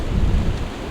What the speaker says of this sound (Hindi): ये देखिए, बारिश धीरे धीरे तेज़ हो रही है।